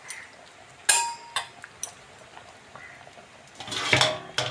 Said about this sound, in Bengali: ব্যাস ঢাকাটা রেখে দেবো।